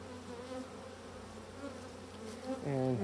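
Honey bees drone from an opened hive in a faint, continuous hum with a few louder buzzing passes near the end.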